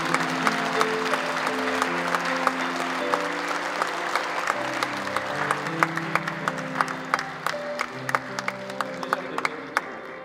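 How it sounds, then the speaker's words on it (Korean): Congregation applause at a church prayer gathering marking the March First Movement in Incheon as an award recipient comes forward, steady crowd clapping under sustained organ or keyboard chords with sharper individual claps standing out. "앞으로 나오실 때에 우리 큰 박수로 우리 격려하겠습니다"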